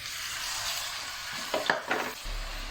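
Chicken hits a pan of hot oil with garlic and onion and is stir-fried, a steady close sizzle broken by a few louder scraping stirs before it settles again.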